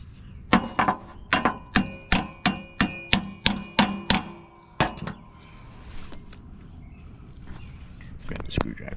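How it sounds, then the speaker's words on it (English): About a dozen sharp metallic hammer strikes ring out on a lawn mower brake part in an even, quick rhythm, then a pause and a few scattered clanks. "That's probably just a quick hammer."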